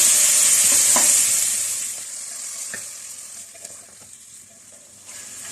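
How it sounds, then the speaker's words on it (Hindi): A steady sizzle of garlic and ginger paste frying in a hot pan for white chicken karahi, loud at first then settling lower, with occasional soft clinks of stirring. "थोड़ा सा इसको फ्राई करेंगे लहसुन अदरक के साथ"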